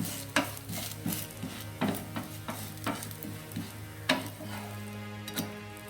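Potato masala dosa cooks on a hot pan, a soft continuous sizzle with a string of light scraping and tapping strokes from a spatula, close and fairly quiet, with no talking.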